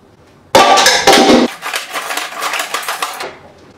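Brownie batter is stirred in a bowl, with a loud scraping, clattering burst followed by a steadier rhythmic tapping and swishing that fades out after a few seconds.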